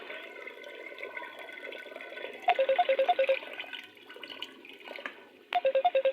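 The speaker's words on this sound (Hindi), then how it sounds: "तो अब मैं इसके अंदर पानी ऐड करने लगी हूँ, जिसमें ये गल जाए अच्छे से।" Water is poured into a cooking pot of lentils, chana and chicken, giving a steady rushing splash throughout. Short electronic beeps cut in twice, around the middle and near the end.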